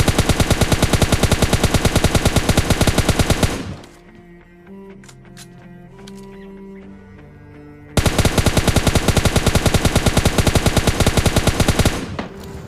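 Rapid automatic gunfire in PUBG Lite during a solo-versus-squad fight, loud continuous bursts of closely spaced shots that stop for a few seconds of quieter game sound, then resume just as fast and heavy.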